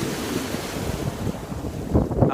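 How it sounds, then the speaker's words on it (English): Sea waves wash onto a beach under gusty wind, with rumbling surges that swell louder near the end and wind buffeting the microphone; no talking. "I just wanted to share the sounds of the sea with you"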